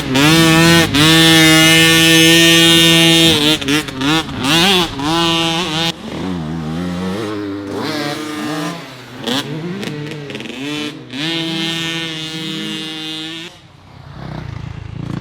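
A motorcycle accelerates hard, loud and close, its engine winding up through repeated rising revs and gear shifts before easing off near the end.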